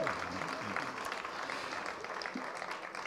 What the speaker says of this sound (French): bonne main d'applaudissements, s'il vous plaît, encore une fois, pour les Narvalos.